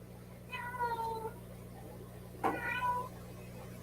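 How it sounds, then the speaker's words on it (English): Cats meow at a home in two separate drawn-out calls, the first wavering and the second sharper, fairly close over a quiet background hum. "Cats have gone crazy."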